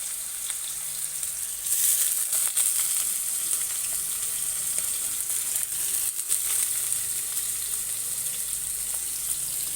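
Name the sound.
potatoes frying in a pan for chowmein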